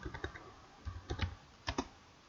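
Computer keyboard keys tapped in short clusters while entering chart labels in Word, close and quiet with irregular pauses between bursts, no talking.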